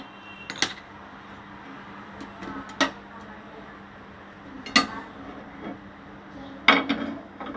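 Ponganalu batter being stirred with a spoon in a bowl, giving four or five sharp clinks of metal against the dish over soft scraping, close by and alone.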